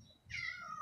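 An adopted house cat in a rented home gives one short, clear meow that rises and falls, close and fairly soft, with no talking over it.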